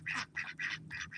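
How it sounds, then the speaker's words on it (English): A group of male ducks on a farm quacks and fusses in rapid, repeated bursts, close and fairly loud, with no talking over them. "You see that choir of male ducks fussing at me?"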